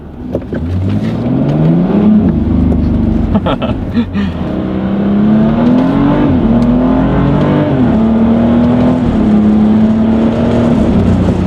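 A tuned BMW X3 engine roars up through the gears in a launch, revving hard and climbing in pitch with each shift, loud and close as it accelerates.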